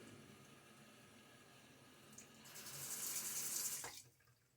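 Razor rinsed under a running tap at a sink, water starting faintly and swelling to a close steady splashing rush for about two seconds before cutting off.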